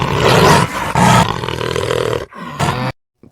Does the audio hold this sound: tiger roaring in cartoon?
yes